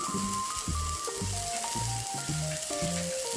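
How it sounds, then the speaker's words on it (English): An Italian meatball test patty fries in a pan with a continuous, even sizzle, while a tonal melody plays softly in the background throughout. "Go ahead and fry your test patty"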